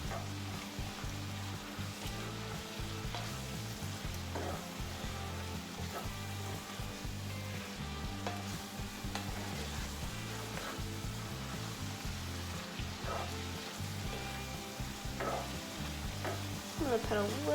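Spinach wilts in a hot cast iron skillet with a soft, steady sizzle and occasional light stirring scrapes, fairly quiet and continuous, no talking.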